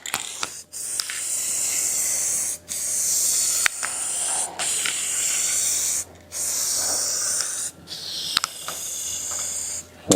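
Colorant finish sprayed onto wood furniture in a refinishing shop, several loud, close hissing bursts separated by brief pauses and sharp clicks of the spray trigger.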